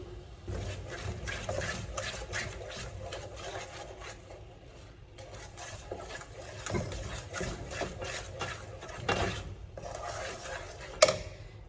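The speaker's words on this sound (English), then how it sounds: "we have our milk and our sugar up in there. I'm just gonna mix this up a little" Milk and sugar stirred together in a pot for homemade fudge, with a soft, continuous scraping swirl, quiet and close, broken by a few louder clinks of the utensil on the pot, no one speaking.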